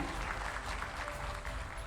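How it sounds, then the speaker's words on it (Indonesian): Audience at an environmental appreciation awards event clapping, a faint, even wash of applause heard from a distance with no voices over it. "Boleh bantu tepuk tangan ya."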